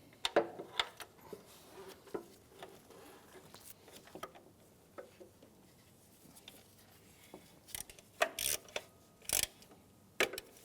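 Ratchet tightening bolts on a 2003-2011 Honda Element during a serpentine belt tensioner replacement, heard as quiet scattered clicking bursts with brief pauses, the sharpest clicks coming near the end.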